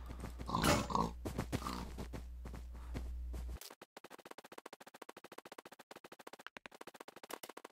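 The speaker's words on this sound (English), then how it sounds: "So many pigs. It's incredible." Pigs oink and grunt in a Minecraft game world, a loud burst of squeals and grunts up front, then quieter scattered footsteps and faint animal sounds.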